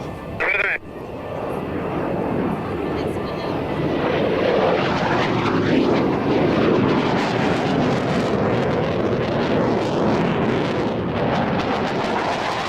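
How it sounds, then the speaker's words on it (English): Propeller aircraft flying opposition aileron rolls at an air show, a loud, steady engine roar that swells and holds throughout, with a commentator speaking over it. "Signature aircraft approaching right for opposition aileron rolls."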